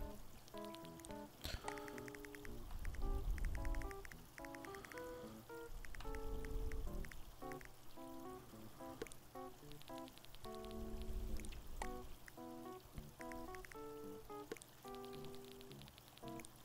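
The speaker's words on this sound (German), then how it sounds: "es donnert nicht nur, sondern es regnet auch noch" Soft rain patters in Animal Crossing: New Horizons beneath gentle, plinking melodic game music, with faint low rumbles of thunder swelling and fading at intervals.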